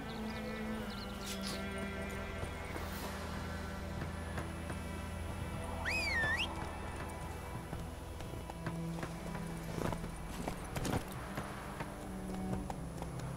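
Horse hooves clip-clop at a steady trot in a video game, running continuously beneath layered game music and ambience, with a brief whistling tone partway through.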